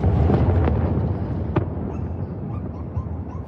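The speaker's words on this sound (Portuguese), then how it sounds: "Vamos ver alguns vídeos dessa mega explosão registrada em um posto de combustíveis às margens da rodovia Washington Luiz" Roaring blast aftermath at a roadside fuel station on the Washington Luiz highway in Rio Claro, with a burning truck: loud broad rumble and crackling throughout, a sharp burst near the middle, faint voices underneath.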